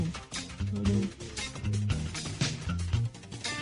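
A bass line from a song plays as a broadcast recording, with prominent low plucked bass notes moving under the rest of the band's steady music and no voices.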